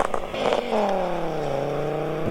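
A Volkswagen VR5 five-cylinder engine revs with a smooth rising then settling drone, its rich harmonic tone holding steady and close for a couple of seconds.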